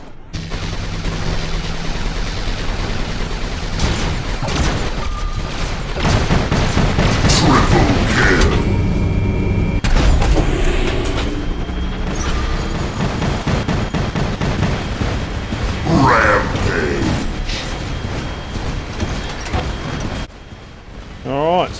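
Sustained weapon fire and explosions from a mech battle against a Titan pound continuously, with booming blasts and rattling shots loud throughout, while someone talks over the din.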